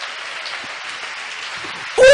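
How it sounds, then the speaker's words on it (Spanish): Congregation applauding the Lord during a church sermon: steady broadband clapping from a crowd, fairly near and even, lasting throughout before a voice cuts in at the end. "Dele un aplauso al Señor en esta hora."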